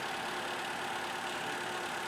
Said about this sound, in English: Did you hear the engine RPM change, Matt?